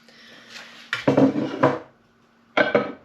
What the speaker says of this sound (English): into the pan I'm going to put about a tablespoon of butter